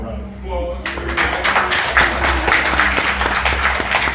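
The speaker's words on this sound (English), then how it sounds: "Let's give them a round of applause." Audience at a lightsaber-building event applauding, tapping and clapping steadily under a speaking voice after a brief hum.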